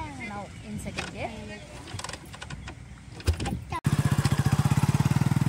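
A motorcycle moving in second gear with a beginner rider, its engine settling into a steady, loud pulsing idle-like throb near the end after a stretch of talking and handling noises.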